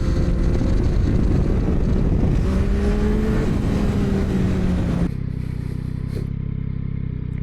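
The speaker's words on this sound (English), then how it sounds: "that's the best way to do wheelies on the MT" A Yamaha MT motorcycle engine drones loudly with buffeting wind noise while pulling a wheelie, its pitch rising and falling, before cutting abruptly to a quieter, steadier rumble.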